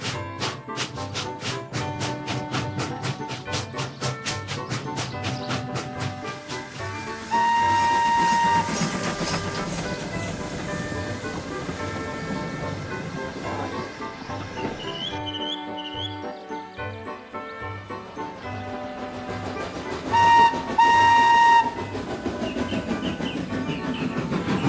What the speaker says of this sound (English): Henry puffed the sulky diesel into motion